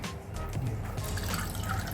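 Water poured into idli premix, a short continuous splashing trickle into a bowl, close and fairly quiet, with no talking over it.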